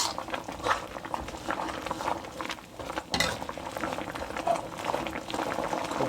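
Green curry chicken in coconut milk with long beans, lime leaves and chilli bubbles at a steady simmer, a dense continuous burbling with occasional utensil clinks and no clear talk.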